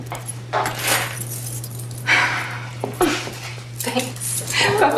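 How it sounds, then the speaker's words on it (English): A bunch of keys jangles and clinks in a quick handover, several short metallic rattles close by over a steady low hum, with no talking. "Keys."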